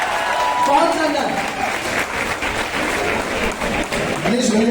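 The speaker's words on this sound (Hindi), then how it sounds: "जोर से तालियां बज लीजिए, तालियां पर जोरदार।" Crowd clapping at a grand event in Basti, with steady applause running throughout under a voice speaking over a loud sound system.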